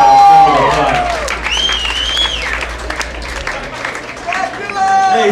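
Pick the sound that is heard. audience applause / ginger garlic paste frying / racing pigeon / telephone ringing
audience applause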